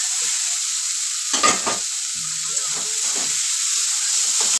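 Boiled green peas go into a frying spiced masala with chopped green chilli for a samosa filling, giving a steady close sizzle with a few clattering stirs and scrapes of the spoon and no talking.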